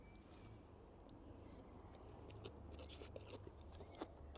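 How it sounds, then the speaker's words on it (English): Bites into a papaya salad with peanuts and tomato give a run of soft, close crunches and chewing sounds, faint and alone, denser toward the end. "You can probably hear the crunch."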